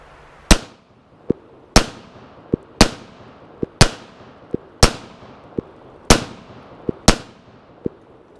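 A Kel-Tec PMR-30 pistol fires CCI TNT 30 grain rounds outdoors, seven sharp loud cracks at a steady pace of roughly one per second, each trailing a short echo, with fainter thin ticks falling between shots.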